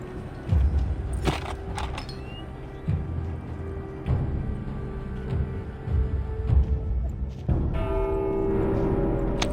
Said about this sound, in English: Who the fuck rang the bell?